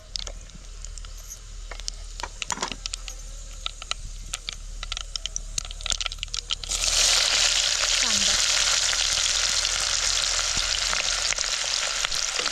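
Onion sizzling in hot oil with mustard seeds and cumin, starting with sparse crackles and light stirring before a loud, steady frying hiss takes over for the second half, up close and without speech.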